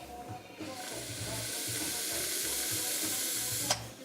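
Air is blown through a TFV12 RBA vape tank, making a long, close breathy hiss that holds steady for several seconds and ends with a short sharp click.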